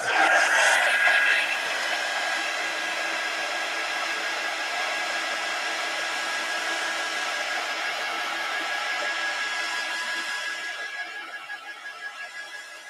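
A hair dryer blows steadily on a mixed media collage, a loud continuous whirring hum held close for about twelve seconds before easing off slightly at the end, with no talk.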